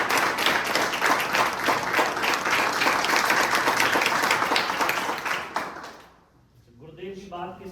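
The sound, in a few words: audience applause at a motivational meeting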